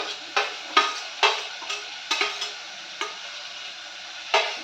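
Vegetables stir-fry in a pan, a faint steady hiss broken by about nine sharp scraping strokes of a spoon at uneven intervals, close and without talk.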